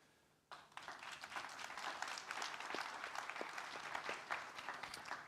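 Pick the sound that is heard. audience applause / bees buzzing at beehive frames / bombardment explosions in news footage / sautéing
audience applause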